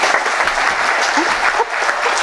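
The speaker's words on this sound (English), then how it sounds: "round of applause for Lois and Fiji." An audience claps in a dense, steady round of applause for a speaker at a talk, loud and close, filling the whole moment without letup.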